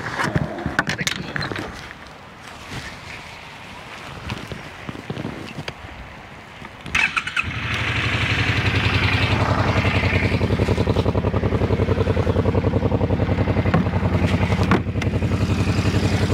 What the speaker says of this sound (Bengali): তো স্টার্ট হয়েছে একেবারে বাইক রেডি।